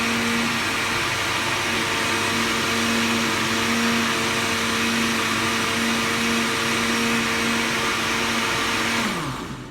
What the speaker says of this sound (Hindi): अब हम इसको फिर एक दफ़ा ब्लेंड करेंगे